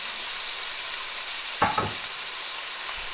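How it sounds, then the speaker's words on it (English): Chicken pieces fry in a hot pan with a steady, loud broadband sizzle throughout, broken by a brief close scrape of a spoon stirring midway. "I'm adding the chicken now, keep stirring it until it's all white"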